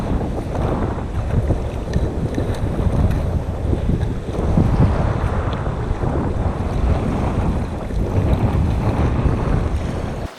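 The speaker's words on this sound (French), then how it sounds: "Il y a à peine 15 nœuds de vent, de l'eau jusqu'à la taille, aucun danger immédiat, je suis proche de la plage." Steady wind buffeting and rushing water around a kitesurfer in waist-deep water close to the beach in light 15-knot wind, a continuous loud broadband roar with no voices.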